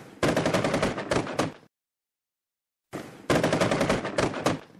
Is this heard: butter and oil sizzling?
no